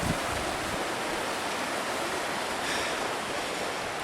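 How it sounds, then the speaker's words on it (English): Waterfall on the trail to Cottonwood Lake, a steady broadband rush of falling water, close and unbroken, with no voices. "here's the second waterfall you have to ascend or descend on the way back down or up"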